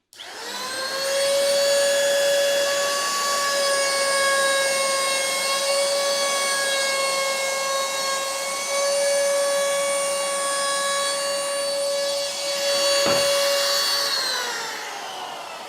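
A wood router cuts a round-over edge on an old square-edged batten with a loud, steady high whine that holds for most of the run. Near the end the pitch dips briefly, then the sound tapers off.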